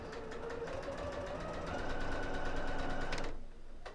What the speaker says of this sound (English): I'm sewing down this right hand seam with the point going into the machine first.